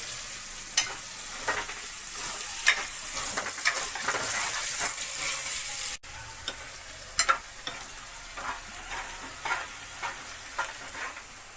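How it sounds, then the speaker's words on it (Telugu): Sliced onions fry in a pan toward browning for a Guntur-style bitter gourd masala, with a steady close sizzle and scattered sharp pops and stirring clicks throughout. "ఆనియన్స్ ఫ్రై చేసుకుంటాం ఇప్పుడు ఇది కూడా బ్రౌన్ కలర్ వచ్చేంత వరకు చేసుకోవాలి"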